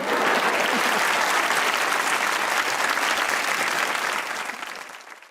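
A college audience gives a dense, sustained round of applause that holds steady and loud before tapering off near the end, with no talk over it.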